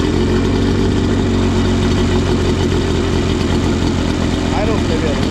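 An old Johnson or Evinrude outboard motor idles slightly high, giving a steady, loud, continuous drone with constant low rumble throughout.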